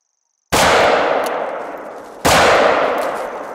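Two loud rifle shots from a hunting game set in the wild, fired at an animal about two seconds apart, each a sharp crack with a long echoing tail fading into the distance.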